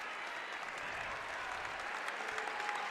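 Crowd applause at an NC State Wolfpack women's college basketball game, greeting Notre Dame's Jennifer Mathurin as she enters; a steady, fairly distant wash of clapping fills the arena throughout, with no other sounds standing out.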